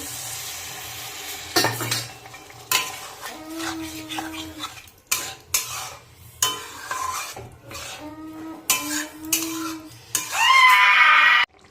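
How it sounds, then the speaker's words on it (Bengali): Pointed gourd (potol) pasinda curry being stir-fried in a pan: intermittent spatula scrapes and metallic clanks over a low sizzle, which swells into a loud, steady hiss near the end. "ভালো করে কষিয়ে নেব"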